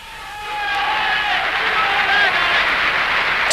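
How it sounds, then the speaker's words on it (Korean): A large indoor crowd at Goebbels' Sportpalast speech in Berlin swells into a loud, sustained roar of shouting and cheering, rising over the first half second and then holding steady. "괴벨스가 질문을 시작하자 모두들 소리치기 시작했습니다"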